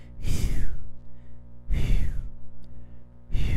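A voice imitates loud, rasping nasal breathing: three long noisy inhale-exhale bursts in a slow rhythm, close and rough.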